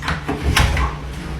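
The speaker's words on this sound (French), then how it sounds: "Et maintenant, je vais ouvrir la porte." A door opening nearby indoors, a short muffled thud and scrape over a steady low hum.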